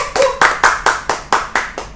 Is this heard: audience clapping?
yes